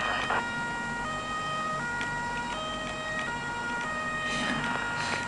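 An ambulance siren wails in the Feuerwehr 2014 fire department simulation game, a loud, steady two-tone electronic cycle repeating continuously through the whole stretch with faint game noise beneath.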